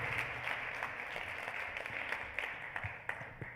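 An audience applauds a startup presenter at a Plug and Play accelerator expo in Armenia. The clapping is a continuous, even wash with a few sharper claps standing out toward the end.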